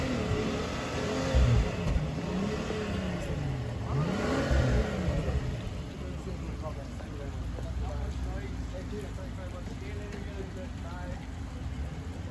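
A car engine revs up in rising and falling surges, then settles into a steady hum; a voice speaks over it.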